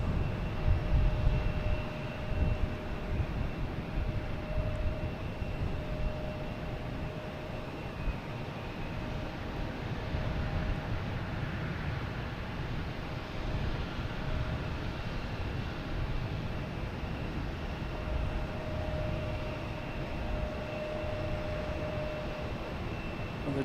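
JetBlue flight 978, an Airbus A321 arriving at Boston Logan from Las Vegas, makes a moderate, sustained jet rumble with faint steady whining tones, slightly louder at the start, then holding even.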